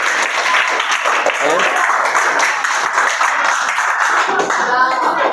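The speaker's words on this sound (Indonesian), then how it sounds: "saya kasih aplaus kelompok 6" Classroom audience applauding a presenting student group, a dense sustained wash of hand clapping filling the whole stretch, with some voices mixed into the clapping.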